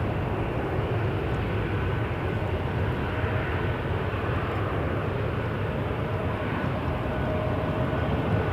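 An airliner takes off at Toronto Pearson Airport, producing a steady, loud, broadband jet roar that holds without letup.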